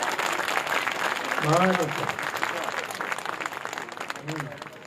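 Audience applause at a Hindi kavi sammelan poetry gathering on a Ram Leela ground: a dense, steady wash of clapping for about five seconds, with a voice speaking over it midway.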